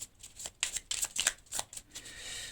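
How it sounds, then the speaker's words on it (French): Tarot cards are shuffled and drawn in quick riffling bursts of crisp, papery flicks and snaps, close and fairly quiet, with no speech over them. "Et puis on va prendre 2 petites cartes pour terminer."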